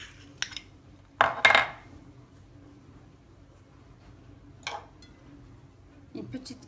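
Ingredients for faqqas (sugar, sesame seeds, honey and a pinch of salt) are stirred in a bowl, giving a few sharp spoon-against-bowl clinks and scrapes scattered between quiet stretches.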